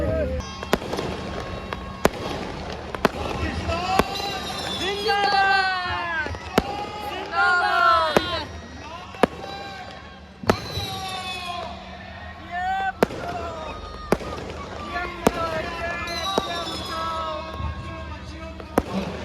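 Fireworks and firecrackers go off as sharp bangs at irregular intervals during a night-time Pakistani Independence Day celebration on 14 August, while people talk continuously nearby.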